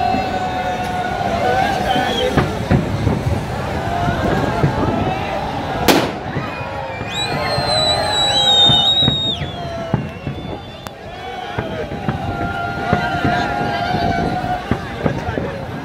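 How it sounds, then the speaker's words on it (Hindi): New Year's Eve fireworks over Athens at the parliament, with thousands of people gathered in bad weather: a steady crackle of bursts and pops, one sharp loud bang, and crowd noise throughout. "आतिशबाजी के दिलकश नज़ारे ने देखने वालों पर सहर तारी कर दिया"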